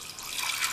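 Water poured from a tap into a pressure cooker holding soaked chana dal (split Bengal gram), a short steady hiss of running liquid that swells slightly toward the end, close and alone.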